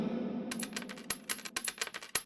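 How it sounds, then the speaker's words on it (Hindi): Gold coins clinking as they are measured in a pot, a quick run of bright, close metallic chinks and taps in an irregular rhythm after a low hum, with no talk. "उसी बर्तन में सोने के सिक्के नापने लगे दोनों"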